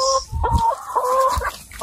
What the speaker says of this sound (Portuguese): Aqui é nosso galinheiro. Nossas galinhas precisam ciscar